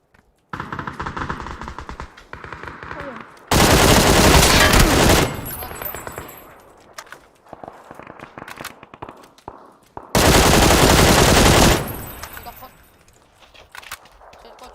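Two long, loud bursts of automatic M16 fire in a video game, each lasting nearly two seconds, separated by quieter game sounds and clicks.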